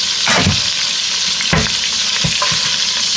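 Sausages frying in a pan, giving a loud close sizzle with crackles and spits plus a few scraping stirs, with no talking.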